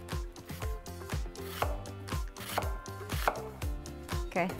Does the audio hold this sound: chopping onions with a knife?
yes